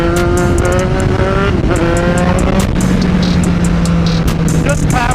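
A street motorcycle engine revs hard and close during power wheelies, rising in pitch through gear changes, with steady wind noise and a voice speaking partway through.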